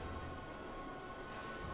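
A train sits at a subway station in the video game Heavy Rain, giving a steady, dense rumble with a constant mechanical hum that fills the whole stretch without a break.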